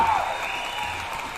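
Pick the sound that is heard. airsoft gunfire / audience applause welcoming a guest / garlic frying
audience applause welcoming a guest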